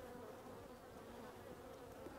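Honey bees buzz steadily on a brood frame lifted from a hive, a dense, close, continuous hum with no pauses or voices.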